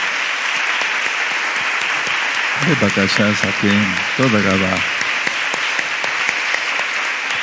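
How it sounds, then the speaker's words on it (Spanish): A church congregation claps steadily throughout, a dense wash of applause running under a voice speaking briefly in the middle. "Ahora, no dejes de aplaudir."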